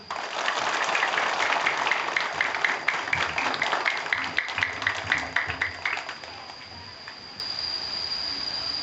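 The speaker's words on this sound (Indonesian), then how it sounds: "tepuk tangan semuanya" A crowd of elementary school students claps steadily for several seconds, the applause thinning out toward the end, with a faint high-pitched hum behind it.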